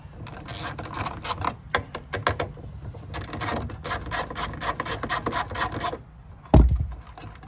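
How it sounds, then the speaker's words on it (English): Two 10 mm fasteners come off a 2021 Nissan Altima taillight with rapid, close bursts of ratcheting and scraping in an uneven rhythm, ending with a single dull thump. "you need to take out these two 10 millimeters"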